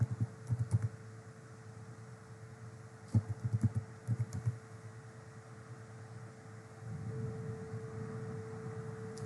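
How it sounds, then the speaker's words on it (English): Typing on a computer keyboard while working in an Excel spreadsheet, heard as two short bursts of close, quick key clicks separated by a pause, over a steady low hum and no talking. "just type that."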